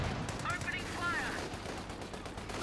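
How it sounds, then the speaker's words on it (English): Gunfire in the World War II strategy video game Company of Heroes 2, a steady rattle of small-arms and machine gun shots mixed with battle noise, continuous and moderately loud. "Opening fire."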